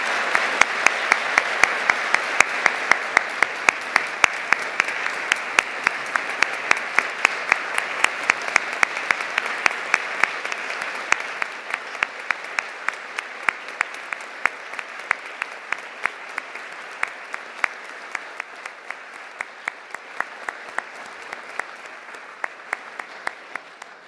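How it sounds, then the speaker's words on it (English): Sustained applause from an audience for award winners at the 2025 Global Pluralism Award ceremony, a dense steady clapping that slowly thins and fades while a few sharp individual claps stand out. "Let's give them a round of applause."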